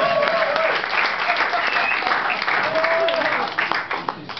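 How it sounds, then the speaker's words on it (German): A German studio audience bursts into steady applause, dense, continuous clapping filling the room at a constant level before easing slightly at the end, with some voices mixed in beneath it. "Applaus, meine Damen und Herren."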